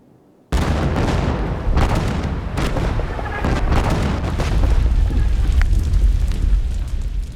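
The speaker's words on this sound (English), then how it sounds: "the ships opened fire on the Turkish shoreline" Sustained naval bombardment of a shoreline by warships, Gallipoli 1915: a dense, continuous roar of heavy gunfire and shell bursts that starts abruptly and rolls on with repeated booms layered over one another, loud and unbroken.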